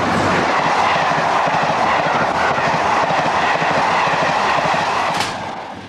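A British Rail train runs steadily on rails on the Norwich to London route in 1986, with a continuous rumble and faint clickety-clack, fading slightly at the end.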